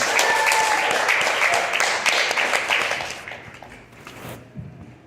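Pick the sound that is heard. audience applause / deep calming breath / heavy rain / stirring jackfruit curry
audience applause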